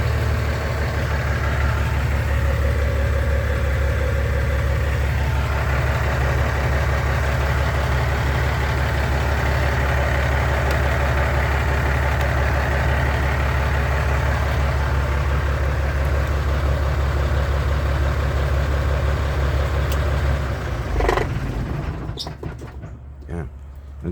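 A diesel truck engine idles with a deep, steady rumble and shaking vibration, loud and close for about twenty seconds before a clunk and the sound dropping away near the end.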